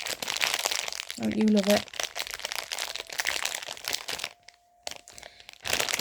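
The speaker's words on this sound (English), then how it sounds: "I love the sound of crinkling." Crinkling of Haribo World Mix candy packaging, heard in bursts of crisp rustle under and between a woman's speech, with a short clear crackle near the middle.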